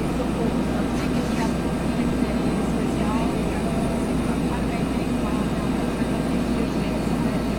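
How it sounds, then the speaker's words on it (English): A helicopter coming in to land gives off a steady, loud, continuous engine and rotor drone with a deep low hum, unbroken for the whole stretch. "I'm just going to land my helicopter"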